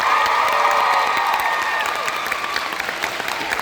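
A room full of art-school students bursts into loud sustained applause with cheering and whoops, the clapping dense and steady, easing slightly toward the end.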